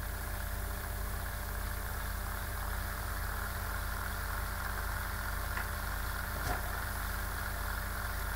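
Kubik coil spinning on a motor driven at about 16 cycles per second, giving a steady, continuous hum with faint whirring and a couple of brief clicks, no voices.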